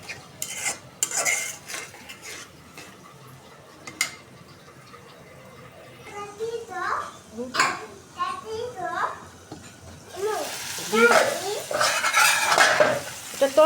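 Spices are sautéed in a pan with a soft sizzle, while a spoon scrapes and clinks against the metal in repeated stirring strokes. Voices, including a child's, talk nearby at times.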